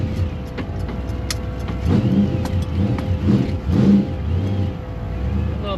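A 1966 Ford Fairlane 500 engine idles close by with a steady low rumble, then revs in several rising bursts.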